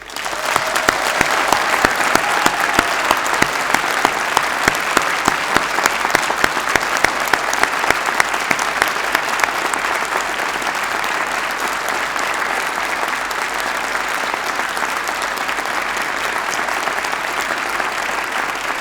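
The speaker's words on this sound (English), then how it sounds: "giving them a very loud round of applause" Loud sustained applause from a graduation ceremony audience, sharp individual claps prominent early before blending into a steady, dense roar of clapping that fills the hall.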